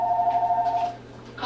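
A telephone rings with an incoming call, a single clear electronic tone sounding for about a second before cutting off, in a quiet kitchen with no talking.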